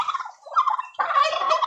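Turkeys gobble on a turkey farm, with loud, close, bubbling calls in two bursts, one short and one longer, and no speech.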